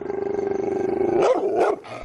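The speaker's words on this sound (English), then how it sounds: "Sam Misimanga heard dogs barking and blood-curdling screams." A dog gives a long, droning growl that rises into a couple of loud, rough barks, close and clear.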